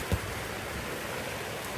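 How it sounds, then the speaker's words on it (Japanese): Heavy rain pounds on the roof of a kei truck, heard from inside the cab as a loud, dense, steady hiss of drumming drops, with one brief thump near the start. "大雨だよ。 この大雨はちょっと想定外だったね。"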